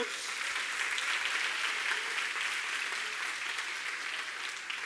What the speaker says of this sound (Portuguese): Deem aplausos.